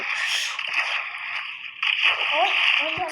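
A character falls into water in the video game Minecraft, giving a brief splash and sloshing in the game audio while someone talks excitedly over it.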